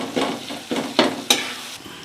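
A spatula scrapes and stirs a thick masala of tomato, chili and turmeric in a hot pan, giving four or five distinct, close strokes over a low sizzle, with no talking.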